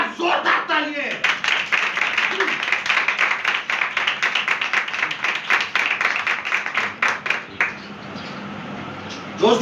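A church congregation breaks into loud, sustained clapping after a call for applause, dense rhythmic hand claps filling the room for several seconds before thinning out, with a voice speaking briefly at the start.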